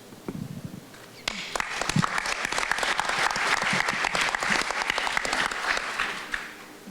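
An audience applauds during introductions at a community panel discussion, beginning with a few scattered claps and swelling into steady, full clapping before tapering off near the end.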